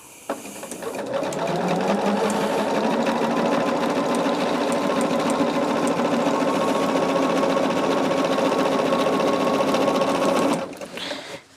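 A sewing machine stitches quilt fabric for a mystery quilt in one continuous, even run of about ten seconds. The motor hum and rapid needle clatter are steady and close, then stop abruptly.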